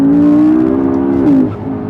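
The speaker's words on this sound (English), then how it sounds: "But if you rev it up to the top, as I'm about to do now" A McLaren 12C turbocharged engine revved hard toward its top end, a loud sustained rising note that peaks and drops off abruptly after about a second and a half, alone without voices.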